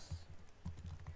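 Typing on a computer keyboard while coding in Java, a run of soft, quick key clicks in short bursts, close and fairly quiet with no talking.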